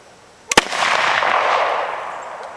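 A single sharp .380 ACP pistol shot fired into a jug at close range, one loud crack followed by a spreading burst of noise that fades slowly over two seconds.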